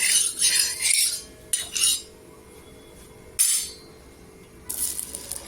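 A spoon spreads a spoonful of oil across a tava griddle on a gas stove, heard as bursts of close metallic scraping and rubbing separated by brief quiet gaps.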